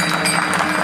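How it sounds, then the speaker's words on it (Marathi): Audience clapping at a kirtan, a brief, loud burst of dense applause with no pauses. "जोरदार टाळ्या वाजवा."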